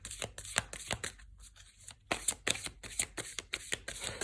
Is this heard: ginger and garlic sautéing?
no